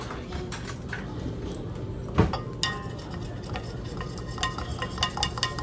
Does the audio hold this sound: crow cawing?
no